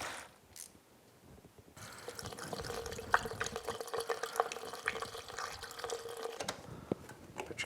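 Coolant drains steadily from a KLR 650 motorcycle engine, a continuous close watery trickle and splash running for several seconds after a quieter start, with no talking.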